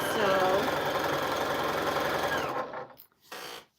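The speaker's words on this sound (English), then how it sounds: "So, what are you sewing? I am sewing a quilt." A sewing machine stitching a quilt runs in a steady, loud mechanical whir for about two and a half seconds, then stops, leaving brief quieter handling noise.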